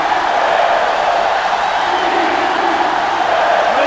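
A huge stadium crowd in an NCAA 06 college football game between Tennessee and Alabama gives off a loud, constant roar that never lets up across the whole stretch.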